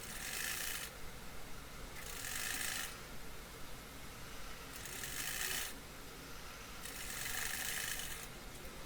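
A sewing machine stitching cord piping onto fabric runs in four separate bursts of rapid, whirring needle strokes, each lasting about a second, with quieter pauses between where fabric is turned and shifted.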